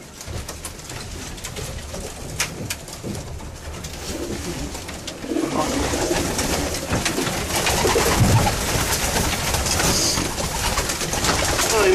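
Racing pigeons coo softly amid a dense wash of background noise, the low calls repeating irregularly and getting busier in the second half.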